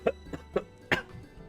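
A few short, soft coughs in quick succession, ending with one slightly stronger cough, heard close and fairly quiet.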